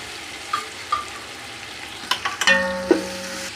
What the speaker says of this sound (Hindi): 1 टेबलस्पून सब्ज़ मिर्चों का पेस्ट डाल देंगे इसमें। और साथ में जाएंगे 2 अदद टमाटर।